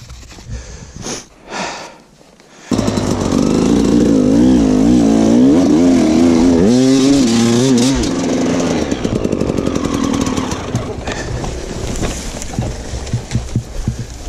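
A motor vehicle engine being run in during its break-in period starts abruptly after a short lull and roars loud and close, its pitch rising and falling in repeated revving sweeps before settling to a steadier, rougher run.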